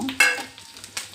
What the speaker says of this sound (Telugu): ఎండు కొబ్బరి ముక్కలు వేయిందండి